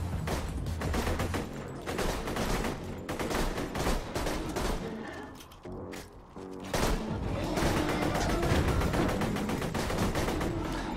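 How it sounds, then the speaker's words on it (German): Rapid pistol gunfire in the looter-shooter Borderlands 2, a near-continuous stream of shots mixed with battle clatter, briefly easing in the middle before resuming loud and dense. "Ich treffe nicht einmal mit der blöden Pistole."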